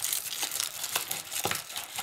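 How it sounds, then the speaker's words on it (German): Excess foil wrapping is pressed and crinkled around chocolate balls, with close, continuous crackling and crinkling and a few sharper crunches along the way. "also diese überschüssige Folie etwas zurechtgedrückt"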